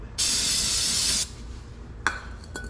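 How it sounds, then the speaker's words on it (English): A loud, steady hiss of aerosol brake cleaner lasting about a second, sprayed on a 2017-2020 Acura MDX rear brake, followed by a couple of light metallic clinks. "you spray it with brake clean, and you wipe it with a napkin"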